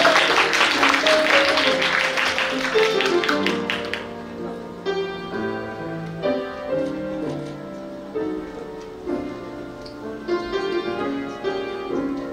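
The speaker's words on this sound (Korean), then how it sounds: "다시 한번 큰 박수 부탁드리겠습니다." Wedding guests clap during a Korean ceremony's ring exchange, dense applause for the first few seconds that thins out as music carries on underneath.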